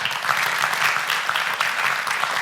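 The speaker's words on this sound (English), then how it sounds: "Let's give Scott a round of applause" A round of applause at a community meeting on a farm development, steady dense clapping from a crowd throughout with a few faint voices underneath.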